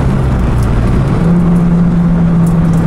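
A Renault Megane RS races around Istanbul Park at full throttle, its engine droning loud and steady with a rising pitch as it accelerates, heard close from inside the car.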